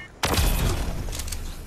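Gunfire in the Fortnite video game, with a sudden loud burst of shots that stays dense and rumbling as it trails off.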